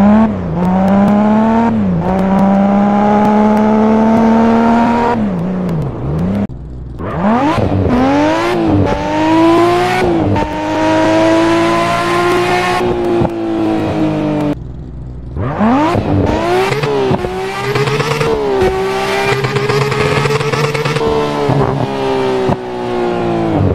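A modded car engine in GTA San Andreas revs up repeatedly, pitch climbing then dropping sharply at each gear shift, loud and continuous with no talking.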